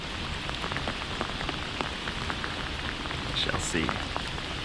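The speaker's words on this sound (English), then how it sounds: "he says he can't fish in the rain." Steady rain patters on the water and surroundings during fly fishing for king salmon in Milwaukee, a dense even hiss with brief murmured speech near the end.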